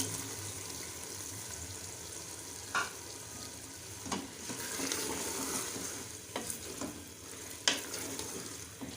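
Okra tumbles into a pan of fried beef and is stirred through it, with a steady close sizzle broken by several sharp scrapes and clanks of a spoon against the pan.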